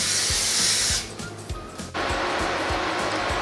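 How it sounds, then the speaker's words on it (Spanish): Butter-flavored cooking oil spray hisses loudly onto bread cubes for croutons, one long burst, a brief pause with small clicks, then a second steady spray. "le voy a poner aceite aerosol con sabor a mantequilla"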